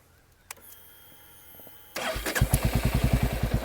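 A Royal Enfield Hunter 350 with an aftermarket performance exhaust cranks and fires up, then settles into a deep, steady thumping idle, close and fairly loud.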